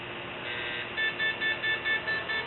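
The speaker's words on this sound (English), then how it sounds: "And we get a PETN alarm" An explosive trace detector sounds a PETN alarm: a run of about six short, evenly spaced electronic beeps, steady and clear over a faint hum.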